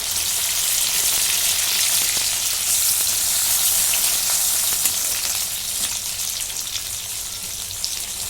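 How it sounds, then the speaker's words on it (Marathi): Chopped onion frying in a pan as curry leaves go in for a green brinjal curry, giving a loud, continuous hissing sizzle with faint stirring and no talk. "आता कांदा भाजून झालेला आहे कढीपत्ता टाकून घेते"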